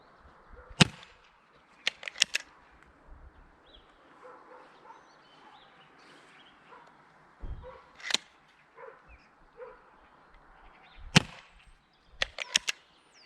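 An Umarex UX Trevox 4.5 mm gas piston air pistol rated at 7.5 joules fires about six sharp, close snapping shots, spaced irregularly with quiet gaps between them.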